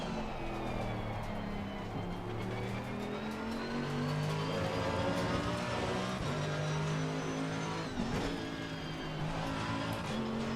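A Mercedes AMG GT3 race car in a racing video game, its engine droning continuously up close with rising and falling revs and occasional tire squeal.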